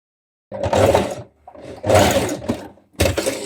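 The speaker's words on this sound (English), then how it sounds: "we're going to stitch straight off the end, let your threads run free" A sewing machine stitches a dart on a hoodie dress in three close, loud bursts of rapid mechanical whirring, separated by brief silent pauses, with no talking.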